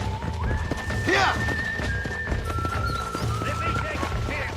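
In the Western video game Red Dead Redemption, a horse gallops with rapid hoofbeats and gives a high neigh near the start, while a faint whistle-like tone and voices sound under the running.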